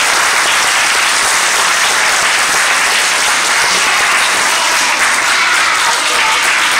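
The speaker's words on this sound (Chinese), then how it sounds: "我们再给台上的小朋友一个热烈的掌声" Loud, dense audience applause for a children's dance troupe at a cultural performance showcase in Matsu, a sustained wash of clapping that holds steady from start to finish.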